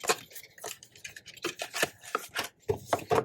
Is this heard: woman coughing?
no